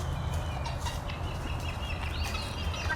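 Turkey hens on a rural property calling: repeated gobbling and clucking bursts, fairly close, over a low steady background hum, with no talking.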